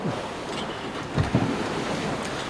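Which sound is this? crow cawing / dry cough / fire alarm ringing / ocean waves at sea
ocean waves at sea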